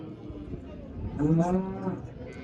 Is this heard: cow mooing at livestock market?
yes